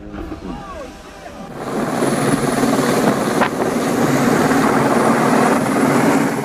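A helicopter airlifting injured cows off high Alpine pastures in Switzerland, its rotor wash building from a quieter start into a loud, steady roar that fills the rest of the scene.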